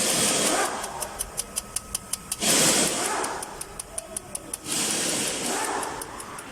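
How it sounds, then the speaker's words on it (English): A Jeep Cherokee engine that cranks but will not start, with the starter turning in bursts separated by rapid ticking from the disturbed fuel system, fairly close and continuous over several seconds. "That's engine."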